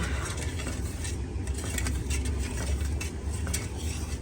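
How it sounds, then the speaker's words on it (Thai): A spoon scrapes and clinks around inside a pot, steadily stirring sugar to dissolve it over medium heat for mango sticky rice, set against a constant low rumble of background noise. "คนน้ำตาลให้ละลาย"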